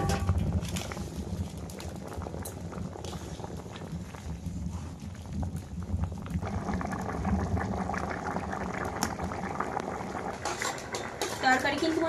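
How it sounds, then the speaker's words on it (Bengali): Fish and potato curry boils in a pot, giving a continuous bubbling hiss mixed with occasional clinks of utensils against the pot, with voices faintly present in the background. "তরকারি কিন্তু চারিধারে ফুটছে"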